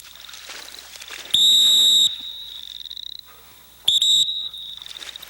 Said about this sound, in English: she's not going to be able to get away with those little whistles like that